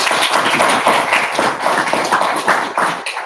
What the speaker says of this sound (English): ask you to join your hands to applaud them